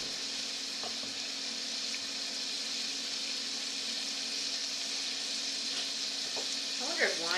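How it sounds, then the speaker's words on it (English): Chopped onion fries in a pan for paella and is stirred now and then. A steady, even sizzle hisses close by throughout, with a few faint scrapes of the utensil near the end. "stir your onion. It's okay if it browns a little bit, but we don't want it to get too brown."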